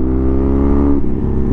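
A custom BMW R100 motorcycle revs loudly out on a road ride, its engine note climbing and then dropping abruptly near the end as the throttle shifts, close and continuous.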